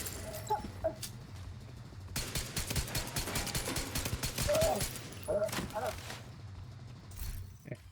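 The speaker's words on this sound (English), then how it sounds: "Fireworks still going in there." Fireworks explode in a video game in dense, rapid volleys of sharp cracks and booms, loud and continuous, with faint voices in the background.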